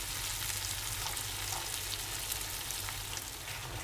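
Masala paste for a Kolhapuri chicken masala sizzles in a hot pan, a dense, even hiss held at a constant level from start to finish, nearby and unaccompanied by voices.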